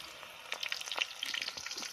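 Onion pakoda batter frying in hot oil, a steady close crackling sizzle with dense bubbling pops running throughout.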